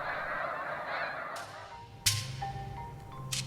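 Snow geese honking in a migrating flock settling on water for the night, a broad chorus of overlapping calls that thins out, then sharper individual honks close by over a steady distant din.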